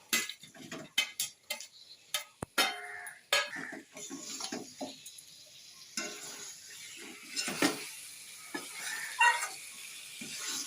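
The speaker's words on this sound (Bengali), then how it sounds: "আলুটা আর ডিম আমি 5-7 মিনিট আবারও কষিয়ে নেব।" Fried duck eggs and potatoes sautéed in curry masala for an egg potato curry, with intermittent sharp clinks and scrapes of a spoon against the pan over a soft, low sizzle, with no voices.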